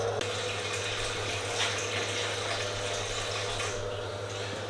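Water from a reverse osmosis filter pours steadily into a container being filled with about 6 gallons, a constant hissing splash over a low mechanical hum, close and unbroken.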